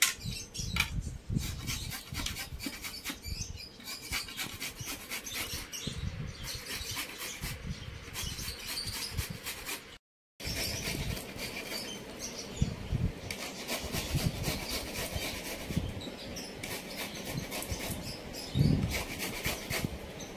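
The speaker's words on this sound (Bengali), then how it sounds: "দেখো আমগুলো সব ছাড়ানো হয়ে গেছে, এবার ঘষে নেবো" Peeled ripe mangoes scraped against a grater, giving a steady run of repeated rasping, rubbing strokes at close range, with no talking.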